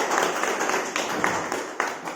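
An audience claps loudly and steadily in a hall, a dense wash of many hands with a few sharper individual claps standing out.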